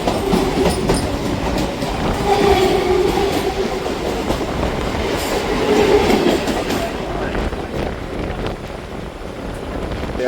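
A local train on the Madhyamgram to Majherhat route runs steadily on its rails, giving a continuous loud rumble with rattling clatter from the carriage and no talking.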